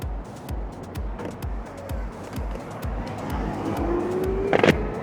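Blue Shark R1K electric scooter accelerating in turbo mode, with a rising electric motor whine and rhythmic thumps from the road, a brief higher squeal near the end.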